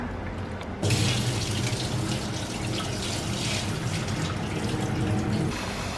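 Water from a tap runs steadily over beans being rinsed in a kitchen, a constant splashing stream that starts abruptly and then continues loud and close.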